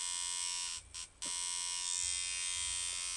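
A tattoo machine for big mags runs at 4 volts with a medium-to-long throw, a steady close electric buzz that cuts out briefly twice before resuming continuously.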